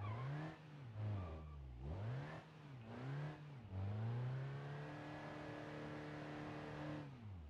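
A car in BeamNG.drive sliding on wet, near-icy asphalt, its engine revving up and down in quick swells before settling into a sustained high drone. The car is heard alone, with no voices.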